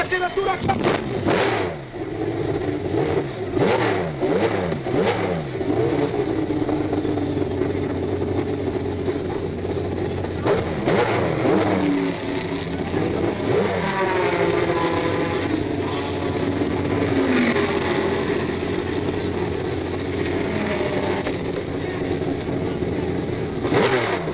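Porsche race cars accelerating hard at the 1970 Sebring 12 Hours, engines loud and close with rising and falling pitch as cars pass in succession, under continuous commentary-style talk.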